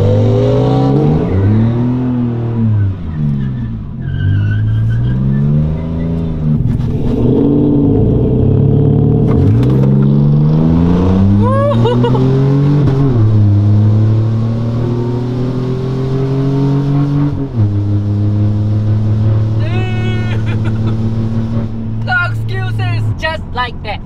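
A stock V6 Chevrolet Silverado pickup accelerates hard in a drag race, its engine note climbing in repeated loud rising sweeps through the gears, close to the microphone, with talk over it.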